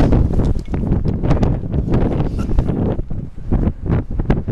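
A strong wind blows across the summit of Mount Toubkal in the Atlas Mountains, roaring and buffeting the microphone in loud continuous gusts, with no talking.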